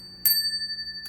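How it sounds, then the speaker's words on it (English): A small counter bell is dinged once, giving a bright ringing tone that decays slowly, followed by a faint second tap near the end. "ding the bell, and you're good to go"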